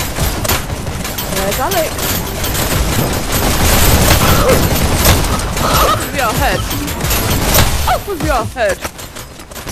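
Rapid gunfire from the video game Hyper Dash rattles in dense, continuous bursts throughout a deathmatch, loud and close, while players talk and shout over it.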